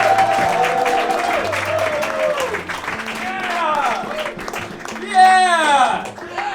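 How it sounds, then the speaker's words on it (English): Stand-up comedy club audience applauding and cheering for the headliner, a busy crowd roar with clapping, music and voices shouting over it. "a big round of applause for your headliner tonight, Jack Hirschfield."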